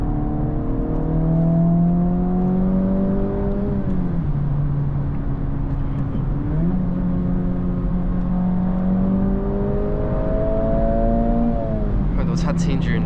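A 2024 Acura Integra Type S engine hums and rises in pitch through the revs while driving, dropping at each gear change, with stock turbo sound mixed in. Someone talks over the engine.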